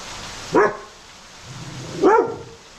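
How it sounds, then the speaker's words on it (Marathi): Dogs playing out in the first monsoon rain give two sharp barks about one and a half seconds apart, fairly close and loud over a steady background hiss. "सगळेच कुत्री पावसात आहे"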